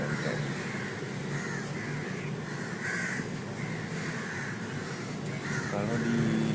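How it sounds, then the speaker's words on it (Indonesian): Crows cawing outdoors, several harsh calls rising above a constant hum of background noise, moderately near and fairly even in level across the stretch. "Gagak di sini itu sangatlah banyak. Semua burung gagak."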